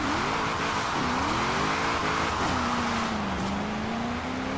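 Engine of a 1998 Nissan Silvia K's Aero in Forza Horizon 4, a steady drone pulling through third gear with pitch rising and dipping at shifts, loud and continuous with faint tire noise.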